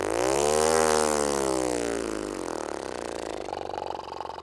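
A buzzy, brassy lip-buzz tone on a euphonium mouthpiece sweeps smoothly from a low pitch up to a higher one, then holds a thinner, rattling buzz; close and fairly loud.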